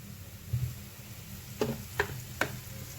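Chicken curry masala is being stirred as coconut oil is added, with a soft steady sizzle underneath and a few light clicks of the utensil against the pan.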